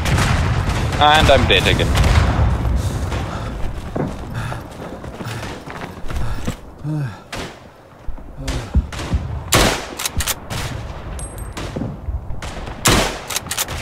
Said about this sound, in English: I just put my artillery there.